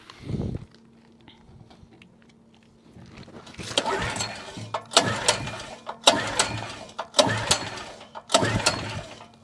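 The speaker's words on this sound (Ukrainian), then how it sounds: "Зараз заведу генератор і покажу." A few bursts of pull-starter rattling, then a single-phase Greenfield G-EC4100P petrol generator's small engine sputters in repeated rough bursts as it tries to catch, close by.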